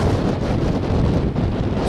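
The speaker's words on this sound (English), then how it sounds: "this is amongst the choppiest waves you'll ever see here at New Brighton" Choppy sea waves churn at New Brighton under strong wind, a dense, loud, continuous roar with heavy wind buffeting on the microphone and no pauses.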